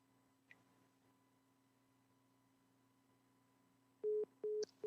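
A telephone busy tone follows a dropped call: after about four seconds of near silence with faint hum, three evenly spaced loud beeps sound close and clear, the last cut off.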